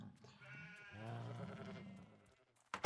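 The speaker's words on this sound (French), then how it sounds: "je vais me faire un mouton" Sheep bleating in the Minecraft video game, a drawn-out harmonic bleat that swells and fades, followed by a short clatter near the end.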